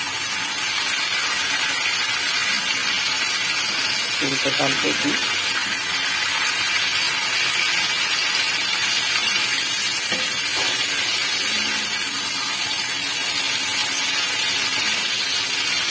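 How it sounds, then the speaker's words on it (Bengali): Cauliflower frying in a pan, a steady close sizzling hiss throughout, with people briefly talking over it. "ফুলকপিটা আরো কিছুক্ষণ ভাজা হবে"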